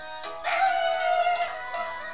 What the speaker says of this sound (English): Wolf and his pup would kiss and then howl.